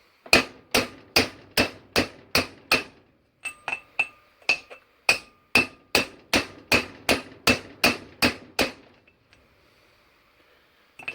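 Hammer blows driving a rear wheel bearing into a Chevrolet Matiz hub, about twenty sharp metallic strikes in steady fast rhythm with one short pause, loud and close, the ringing tone shifting slightly as it seats.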